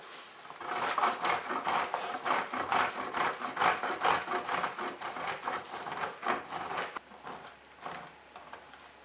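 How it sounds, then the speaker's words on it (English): Cheese rubbed against a metal grater while preparing Hungarian lángos, a close, steady run of rhythmic scraping strokes, each a short rasp, continuing for several seconds with no talking. "So now I'm grating the cheese."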